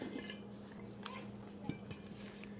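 A spoon stirs yellow colouring into frosting in a bowl, producing faint scraping and light clinks against the bowl over a quiet background hum.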